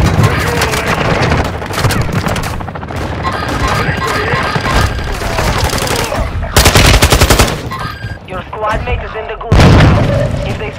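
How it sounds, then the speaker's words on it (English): Rapid machine-gun fire and scattered shots crackle through a chaotic Warzone 2.0 firefight, with a grenade blast and two heavy bursts of gunfire standing out loud near the end. Voices talk faintly underneath. "That's a small grenade!"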